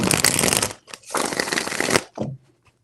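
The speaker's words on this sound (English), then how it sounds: "Three shuffles." Tarot cards are shuffled in two long riffling bursts, then a short third flutter, close and fairly loud with brief quiet gaps between them.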